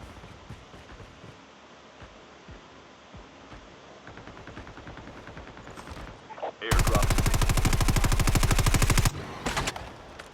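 Gunfire in the Call of Duty Mobile video game, with scattered distant shots giving way to a loud, sustained burst of rapid automatic fire lasting a couple of seconds before it tapers off.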